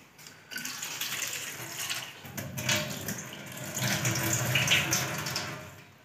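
Tap water runs steadily into a sink while green chillies are rinsed in a home kitchen, a close, continuous splashing stream with slight shifts as the hands and chillies move under it.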